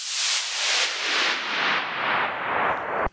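A big room house track carries a sidechain-compressed whooshing noise effect that swells and dips in a steady pumping rhythm, loud and broad, before cutting off abruptly with a final thump.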